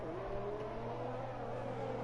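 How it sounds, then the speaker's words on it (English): Ferrari Formula 1 car engine running along the straight with DRS open at the Australian Grand Prix in F1 2020, a steady high-pitched whining drone at moderate volume with no talk. "the Ferrari coming around the straight there with him with DRS"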